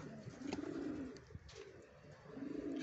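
Soft, low pigeon coos repeat in short rounds, quiet and close, with faint background noise and no talking.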